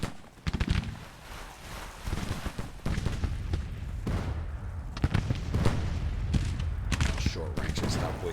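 Dense volleys of musket and rifle fire crackle and pop continuously in a Civil War strategy game battle, with heavier booms mixed in, a loud, busy layer of overlapping shots under occasional talk.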